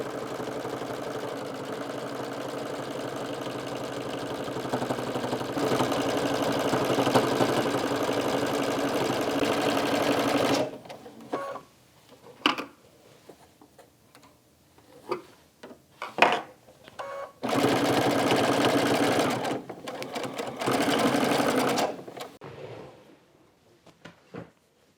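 A domestic sewing machine quilting joined quilt-as-you-go blocks, with long steady runs of stitching broken by pauses filled with soft fabric handling and small knocks, then another sustained burst before stopping.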